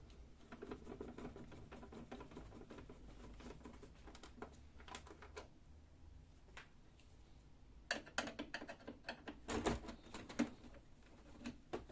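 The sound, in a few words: unscrewing screws on a Canon i-SENSYS printer front panel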